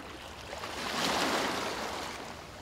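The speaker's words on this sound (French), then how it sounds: "le bruit des vagues" Ocean waves wash onto a sandy tropical shore lined with coconut palms, a soft broadband surge that swells to a peak midway and then slowly recedes, heard alone and fairly quiet.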